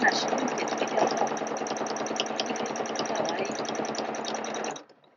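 Small electric sewing machine stitching a buttonhole on its automatic program, a fast continuous mechanical whir and rattle held loud and close for several seconds before stopping abruptly.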